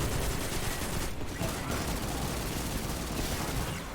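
Sustained gunfire from a firefight in the Destiny 2 video game, a dense continuous barrage of overlapping shots and bursts filling the whole stretch at steady high loudness, with no voices over it.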